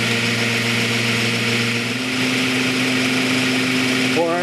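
A cart motor runs steadily, driving a wheel through a 3-to-1 ratio with a constant mechanical hum and whine. It sounds close and loud, and its pitch shifts slightly near the end.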